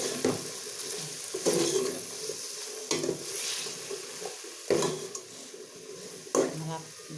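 Potatoes and string beans with a splash of soy sauce sizzle steadily in a pan while a utensil scrapes and stirs in repeated sweeps every second or two, close and fairly loud.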